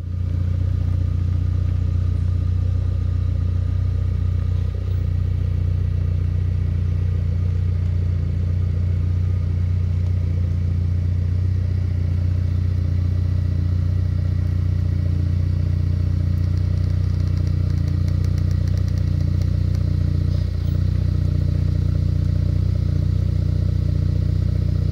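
A 2021 Ford Ranger pickup truck idles and crawls over uneven ground during an off-road articulation test with the sway bar disconnected, a steady low engine drone with occasional light clatter and no talk.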